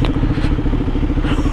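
A KTM Duke 125 motorcycle engine runs close and loud, a steady throbbing rumble with a rapid pulsing beat.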